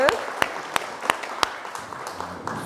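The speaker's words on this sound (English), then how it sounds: "Let's give Luke a round of applause" A church congregation applauds Luke after he stands in for the morning sermon: a handful of distinct claps spaced apart near the start, thinning into scattered lighter claps and faint room murmur.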